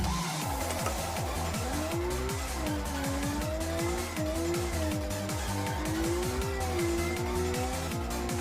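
A race car in Assetto Corsa, driven on a Moza R5 wheel base, roars continuously with rising and falling engine revs, repeated gear shifts and constant tire squeal, loud and close throughout.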